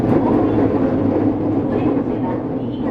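A Rinkai Line 70-000 series commuter train runs between Osaki and Shin-Kiba, a loud, steady low rumble and rolling hum from inside the car with no pauses.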